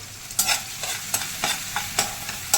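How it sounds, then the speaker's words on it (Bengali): Onion and tomato fry together in a pan under a quiet sizzle, punctuated by a rhythmic series of close spatula strokes roughly every half second. "পেঁয়াজ আর টমেটো ভালো করে ভাজা ভাজা হয়ে গেছে"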